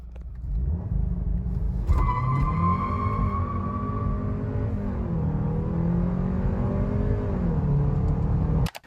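A Volkswagen GTI accelerates hard through the gears in a speed test, its engine note climbing, dropping at shifts and rising again as a loud, steady drone.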